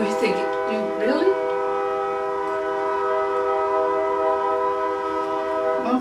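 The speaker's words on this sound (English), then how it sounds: "Guys, excuse the train." Train horn blaring at night with long sustained harmonic blasts, two short swelling toots followed by a steady held tone, moderately loud and somewhat distant, with a little speech around it.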